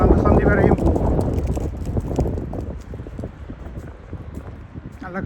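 A strong wind gusts over the microphone on a Sunday city walk in Germany, rough low buffeting that is heaviest at the start. Someone talks throughout.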